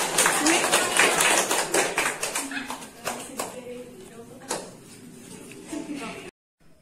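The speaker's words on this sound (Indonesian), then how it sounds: "Coba tepuk tangan." Students in a classroom clapping their hands, a burst of irregular claps that thins out into scattered separate claps.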